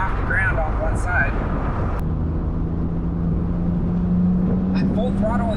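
A BMW Z3 2.3 roadster drones steadily at full throttle in third gear around 4,500 to 5,000 RPM, a loud continuous engine hum heard from inside the car with wind noise and a voice speaking over it.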